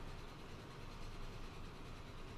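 Train in Transport Fever running steadily at top speed during a race, a dense continuous rumble and rolling rail noise without pause, fairly close and even throughout.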